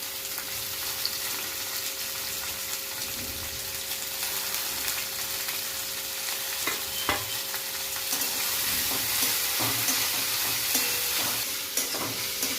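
Sliced cabbage and long strips of capsicum with onion stir-fried and tossed in a hot pan for homemade chow mein, a steady close sizzle with intermittent scraping and clinks, growing louder toward the end, with no talking.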